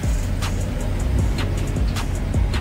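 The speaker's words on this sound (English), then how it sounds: "Cold start." A GMC Savana van's engine runs on a cold start as a steady, low, close rumbling idle, with faint ticking and clicks over the drone.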